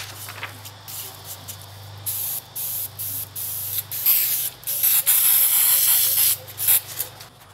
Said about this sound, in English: I'm going to attach my template to the timber, just using spray adhesive